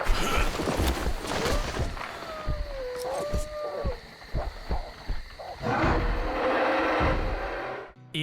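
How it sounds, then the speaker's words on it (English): Giant mutated bear in the Metro Exodus video game, heard as deep growls and a roar amid game noise and rumbling effects, loud and close, with pauses between outbursts. "There are wolves and a giant mutated bear all freely roaming around in this area."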